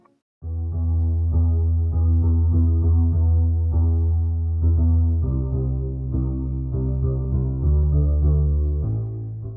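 A synthwave bass line built from the top notes of a chord progression and a drum pattern, with sustained rich harmonic tones changing pitch every couple of seconds and a steady pulsing rhythm, loud and alone.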